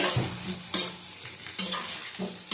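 Whole spices, a cracked chili and Kashmiri chili powder stir-fried in a pan for a potato and catla fish curry, a loud close sizzle broken by several rhythmic stirring scrapes.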